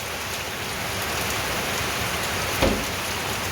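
Steady rain falls in a dense, even hiss for the whole stretch, with one brief louder thump near the end and no voices.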